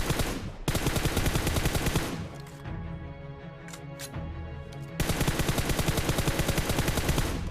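Rapid automatic gunfire in PUBG Mobile, long sustained bursts of close, loud shots with a brief lull of scattered single shots in the middle before the full fire resumes, with no talk over it.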